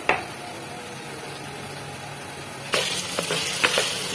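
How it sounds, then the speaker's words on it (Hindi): Spices and white pepper frying in mutton stock for a restaurant-style mutton curry, a steady soft sizzle that jumps louder partway through, with a few sharp clinks of stirring near the end. "ये 5 से 7 मिनट तक इसे हम फ्राई करेंगे।"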